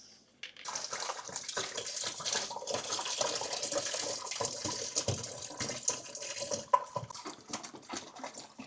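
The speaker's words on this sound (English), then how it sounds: "we're going to top the fermenter up to the 23 litre mark with cold water" Cold water pours steadily into a beer fermenter, a continuous splashing rush with a few clunks and knocks, no talking.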